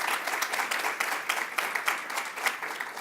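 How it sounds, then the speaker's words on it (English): A crowd at a domestic violence awareness event gives a round of applause, a dense wash of many hands clapping at moderate volume, steady for a few seconds with no voices over it. "Can you please give him a round of applause?"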